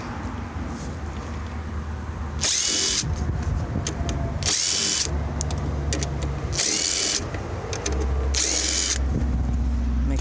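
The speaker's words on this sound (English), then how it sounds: "we're going to switch over to our 7mm so that we can get to the smaller bolts on top" A power tool fitted with a 7mm socket drives out small bolts on the front bumper of a 1991 Corvette salvage parts car, with several loud, close bursts of whirring separated by brief pauses.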